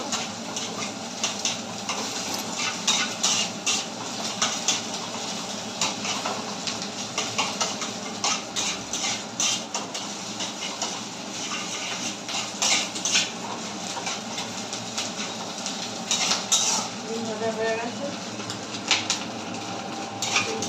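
A metal spatula clinks and scrapes repeatedly against a pan while egg fries in oil for chowmein, with a soft sizzle underneath the irregular clattering.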